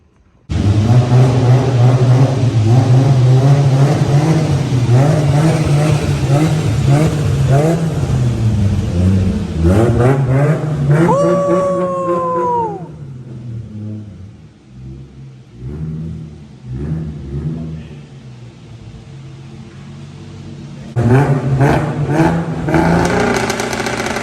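A JDM car engine fitted with a new exhaust system revs loudly through several throttle blips and climbs, drops toward a rough idle amid clanks, then picks up again near the end.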